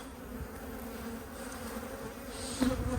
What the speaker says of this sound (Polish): Ale pszczoły się denerwują, no niestety.